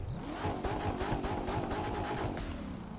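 A Corvette C7 ZR1 engine in the video game The Crew 2 revving loudly and continuously, a gritty throaty roar with rapid pulsing, close up and without any talking.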